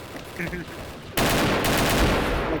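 Gunfire in the XSHOT shooter video game, faint distant shots at first, then a sudden loud continuous burst of automatic fire that dominates to the end.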